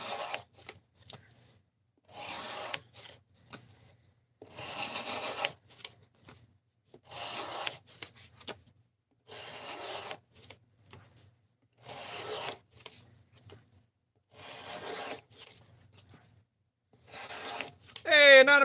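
A tool is sharpened on a table in repeated rubbing strokes, about seven bursts separated by short pauses, close and fairly loud, with a rasping, filing texture.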